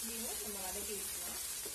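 Onions sizzle softly in a hot pan, a continuous gentle hiss with faint stirring underneath.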